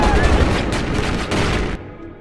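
Police firing on a man in an action film, a loud rapid volley of gunshots with booming impacts that carries on for nearly two seconds and then cuts off abruptly, with a voice speaking over it.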